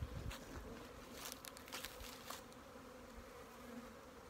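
A steady swarm of honey bees buzzing close by, a dense continuous drone with a few louder passes near the start.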